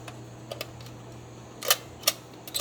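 Shutter of a Zeiss Ikon Baby Box Tengor 54/18 box camera with Goerz Frontar lens, giving a few sharp, close mechanical clicks, with two more prominent snaps among softer ticks over a low steady hum.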